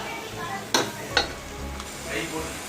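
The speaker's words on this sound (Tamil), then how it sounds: "புதினா கொத்தமல்லி தயிர் சேர்த்து நல்லா வதக்குங்க" Mint, coriander and curd sauté in a pan with a soft sizzle, broken by two sharp spoon scrapes against the metal as they are stirred, fairly quiet and close.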